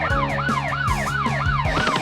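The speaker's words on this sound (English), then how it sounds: "Oh, my siren is back!" A cartoon police car siren wails in quick, even rising-and-falling sweeps, about five cycles in two seconds, loud and close with nothing else over it.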